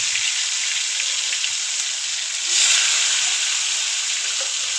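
Spiced meat frying in a hot pan gives a loud, steady, close sizzle and hiss that swells briefly partway through, with no voices.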